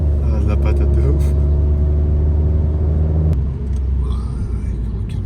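A big truck rumbles past on a mountain road toward a ski station, a loud, steady low drone with engine hum that swells, then drops off as it goes by, heard from inside a car over constant road noise.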